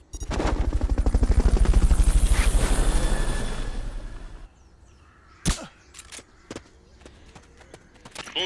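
Helicopter in the video game Metal Gear Solid: Peace Walker, a loud, steady rotor chop for about four seconds that cuts off abruptly, followed by a few sharp in-game clicks and thuds.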